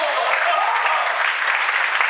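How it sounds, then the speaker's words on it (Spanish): Steady applause from a church congregation at a Spanish-language sermon, a dense even wash of many hands clapping together that holds at one level throughout without pause. "¡Apláudalo, Señor, hermano!"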